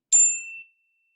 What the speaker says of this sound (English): And then when I ring my bell,